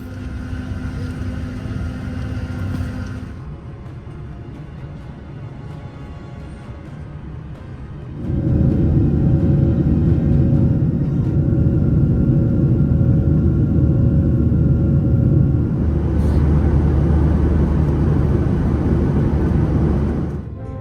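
Low, steady cabin rumble of an airliner in flight, a broad droning roar that dips to a quieter hum for a few seconds and then swells louder again, continuous and without talking.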